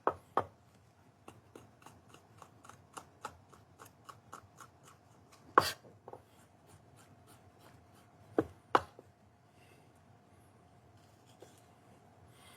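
A knife chops onions on a cutting board in a kitchen, with a run of crisp, evenly spaced taps and a few louder strokes, close and clear with no talking.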